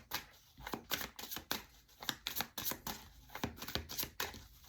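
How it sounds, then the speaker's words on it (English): Tarot cards being shuffled by hand in a series of crisp riffling slaps and flutters, arriving in uneven bursts close to the listener with no talking. "I shuffle, the card is still here."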